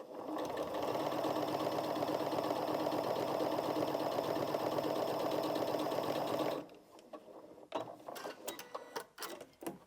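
A Janome MC 6700p sewing machine fitted with a jeans needle runs a steady straight stitch through dense denim at a lengthened stitch, a loud continuous whirring motor with rapid needle clatter for about seven seconds before stopping, followed by faint handling clicks.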